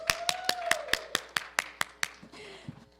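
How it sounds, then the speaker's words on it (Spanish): Hand claps ring out as slow applause, about a dozen evenly spaced sharp claps, fairly near and moderately loud, with a voice talking faintly underneath. "Den un aplauso al hermano."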